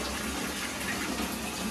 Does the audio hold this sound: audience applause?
no